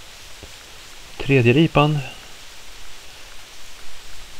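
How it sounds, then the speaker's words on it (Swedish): Rain falls steadily in the hunting game The Hunter, a soft constant hiss of drops in the background while someone speaks briefly over it. "För det är fruktansvärt ljud alltså när det regnar."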